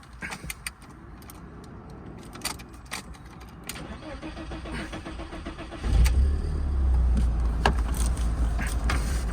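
A 1999 BMW Z3 sports car with a 1.9-litre engine, around 91,000 miles, cranks with some clicks and rattles, then catches at about six seconds and settles into a steady, close idle rumble.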